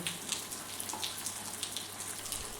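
Water from a running motor pump pouring up into a household tank during rain, a steady faint splashing trickle with no voices.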